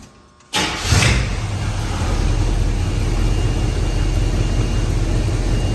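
A 1981 Pontiac Trans Am with a newly fitted carburetor cranks briefly after a moment of quiet, then catches and settles into a steady, loud idle close by.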